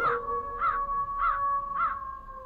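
Raven calls: four hoarse, evenly spaced caws over a steady background hum, fairly faint and at a distance.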